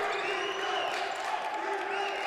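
A sustained roar of a crowd cheering in a gym during a men's college basketball game between Lackawanna College and Orange County Community College after a basket, steady and fairly loud throughout the moment.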